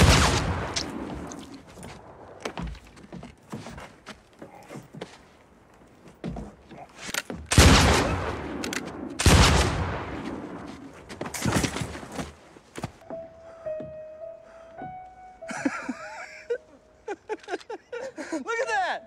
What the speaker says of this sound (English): I just shot him through the neck!